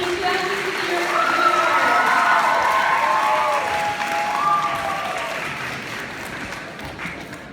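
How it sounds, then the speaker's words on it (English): Audience at a high school sports banquet applauds and cheers for the 2021-22 Athletes of the Year, steady dense clapping with crowd voices and whoops, loud throughout and tapering slightly near the end. "Let's have a big round of applause for our 2021-22 Athletes of the Year."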